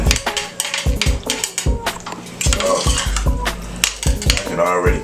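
A utensil scrapes and clinks against a pan in quick irregular strokes, loud and close, stirring in cream of mushroom soup, with a faint sizzle underneath.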